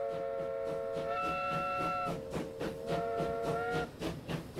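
A steam locomotive's whistle in the Transport Fever video game blows two long, bright, sustained blasts with a short pause between them as the train departs, over a rhythmic chuffing and hiss, with no talk.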